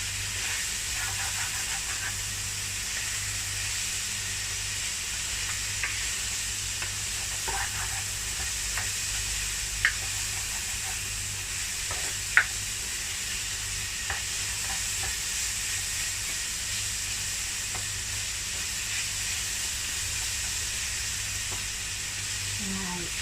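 Carrots tipped into a pan of cooked chicken sizzle and hiss steadily at low volume, with a few faint clicks of stirring breaking through the even frying noise.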